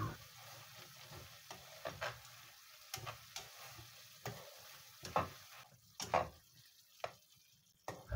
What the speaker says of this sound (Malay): Dah mendidih ya. Masukkan ikan bilis yang digoreng tadi tu.